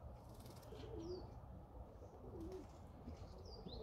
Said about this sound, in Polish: zobaczcie jakie mądre gołębie